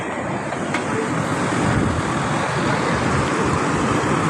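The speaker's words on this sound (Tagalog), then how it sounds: "Marami lang sasakyan dumadaan." Many vehicles pass along a road beside a construction site where concrete is being poured for a carriageway, a steady, loud wash of traffic and tyre noise with no distinct individual passes.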